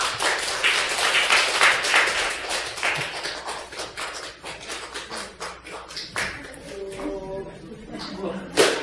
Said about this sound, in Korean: 박수 한번 다 해주실까요?